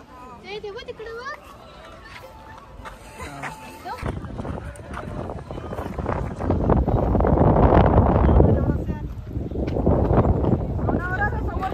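Strong wind buffets the microphone in loud, rising gusts amid fog and rain on a fort trek, with some talk and children's voices near the start.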